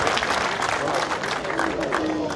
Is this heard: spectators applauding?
yes